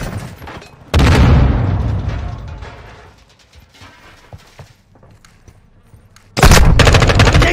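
Gunfire in Call of Duty Modern Warfare 2, loud sudden automatic bursts opening and closing the passage with scattered single shots and mechanical clicks in the quieter middle.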